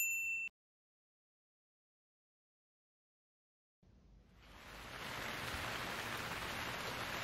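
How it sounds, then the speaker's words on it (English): After a short tone and silence, rain fades in and grows into a steady, dense patter. "Oh no, it's raining."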